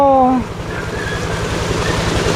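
Strong water from an irrigation pump pours into a farm pond, making a loud, continuous rushing gush close by, with a brief voice-like tone at the very start.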